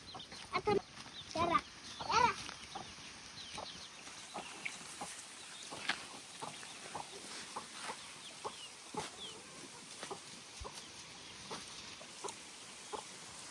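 Chickens cluck on a farm, with a few louder clucks and squawks early on and then scattered, softer clucks and small knocks over a quiet background, with some faint voices.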